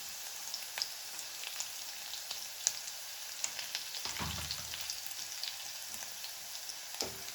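Cumin seeds and garlic fry in hot oil for toor dal, giving a steady soft sizzle with small scattered crackles and a couple of louder stirring scrapes.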